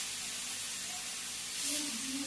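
Fish frying in hot oil on a home stove in a Bangladeshi kitchen, a steady broadband hiss and sizzle throughout that swells slightly louder toward the end.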